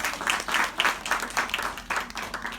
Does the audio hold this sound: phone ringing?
no